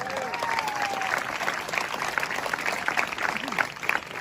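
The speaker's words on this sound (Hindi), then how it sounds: "अगर दूसरी पंक्ति पर इतनी ताली बजी है" An audience bursts into sustained, dense applause at a Hindi kavi sammelan poetry recital of humorous and heroic verse, the clapping steady and close with a few voices and a brief whistle-like cry rising over it.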